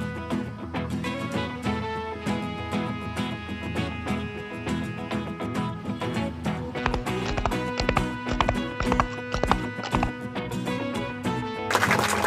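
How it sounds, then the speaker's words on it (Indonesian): Horse hooves clip-clop at a steady trot as a horse pulls a delman, a traditional Indonesian passenger carriage, heard throughout under a continuous bed of music. "Delman menggunakan kuda sebagai penggeraknya."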